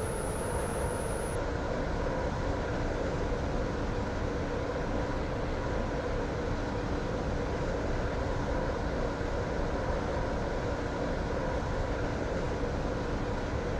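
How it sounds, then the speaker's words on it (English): Class 165 diesel multiple unit running on the Waterline in the Roblox game Stepford County Railway, a continuous loud rumbling drone of engine and wheels, steady throughout with no talk. "Welcome aboard this Waterline train to Greenslade."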